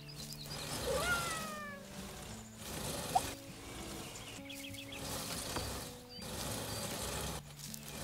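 A cat meows repeatedly in the Garten Simulator video game, with several short, clear calls spread across the clip over a quiet outdoor garden ambience.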